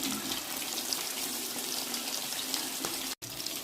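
Fish pieces frying in hot oil for a KFC-style fish fry, a steady close sizzle and hiss that continues throughout with a brief cut near the end.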